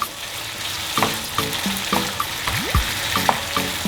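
Prawns fry in chili garlic butter in a pan with a steady sizzle, broken by repeated clinks and scrapes of a utensil stirring them, close and clear with no talking.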